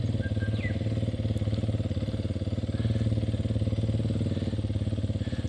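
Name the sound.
motorbike riding laps through mud in the bush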